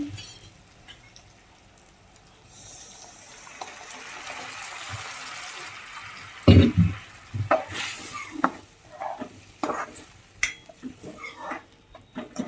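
Dal poured into a hot tempering of jaggery and coriander for a Gujarati thali, a soft sizzle building, then a loud splash and bubbling with irregular stirring scrapes and clatters close by; no talk.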